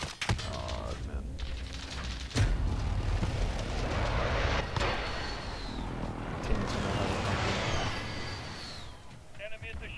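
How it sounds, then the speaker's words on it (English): Heavy explosions and battlefield gunfire from a precision airstrike in Call of Duty: Modern Warfare, a rolling roar with sharp blasts near 2.5 and 4.8 seconds, with game voice callouts over the chaos. "Enemy precision airstrike inbound."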